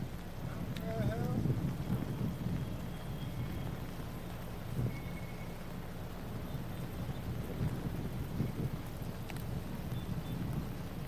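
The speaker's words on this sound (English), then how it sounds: "It's raining like hell. Let me see if I can get a sound on that." Heavy rain hisses steadily outdoors under gusts of wind and a low rumble, a dense continuous wash lasting throughout with no clear voices.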